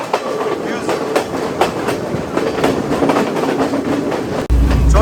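A passenger train runs on rails through the hill country of Sri Lanka, with a loud continuous rumble, rhythmic wheel clatter over rail joints, and a sudden deeper roar near the end.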